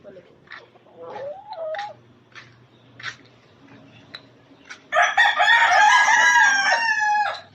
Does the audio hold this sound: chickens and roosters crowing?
yes